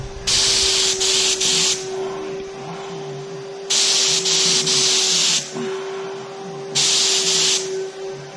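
Fuji Mini-Mite 4 Platinum HVLP sprayer spraying paint in three loud bursts of bright, airy hiss, each lasting about one to one and a half seconds, with a steady turbine whine running underneath throughout.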